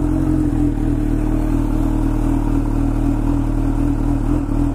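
Kawasaki Ninja H2 motorcycle engine running close by, a steady loud low-pitched idle rumble with a fine rapid pulsing throb and no clear rise in revs.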